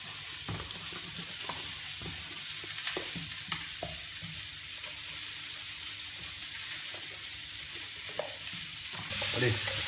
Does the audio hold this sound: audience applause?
no